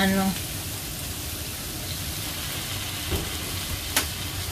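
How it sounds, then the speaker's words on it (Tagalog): Beef for a curry frying in a pan, a steady hiss of sizzling oil running throughout with a few soft clinks and knocks of utensils. "Prito ko muna tong"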